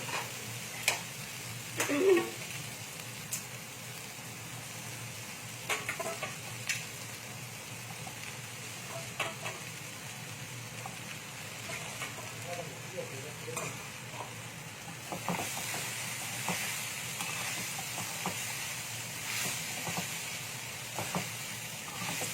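Cumin seeds go into already fried ingredients in a pan for poha, a steady hiss and sizzle with occasional stirring clinks and scrapes that swells louder toward the end, with a faint voice now and then.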